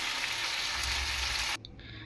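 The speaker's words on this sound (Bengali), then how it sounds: "আর এখানে ডিম কষানো চলছে আমার।" Egg curry for dim kosha sizzles steadily in a pan as a dense, loud hiss that abruptly drops to a quieter bubbling near the end, with no talking.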